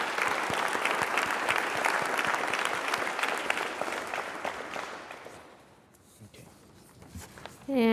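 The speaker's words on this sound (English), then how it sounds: "I just want to give another round of applause to all the youth here." An audience at a board of health meeting gives a round of applause for the young people, dense clapping that fades out after about five seconds, followed by quiet rustling and a brief voice.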